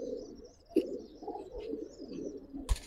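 Giribaz pigeons coo nearby in soft, throaty, rolling calls that rise and fall, with a couple of brief knocks or flutters mixed in.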